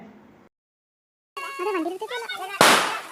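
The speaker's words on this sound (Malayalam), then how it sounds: "ബാക്കി എല്ലാവരും കൂടി കമ്പിത്തിരിയും പൂക്കുറ്റിയും വെടിയും എല്ലാം അടിപൊളിയായിട്ട് പൊട്ടിക്കുന്നുണ്ടായിനെ" A short sharp bang of a firecracker bursts near the end, right after a child's sing-song voice, on the eve of Vishu; a brief dead silence comes earlier.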